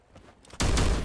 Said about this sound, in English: And now Revenant XSpark, they hear the gunshots behind them.